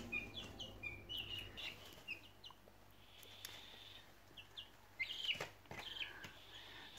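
Young chicks and guinea keets give faint, high chirps and peeps in scattered bursts over a soft background hum, with no talk.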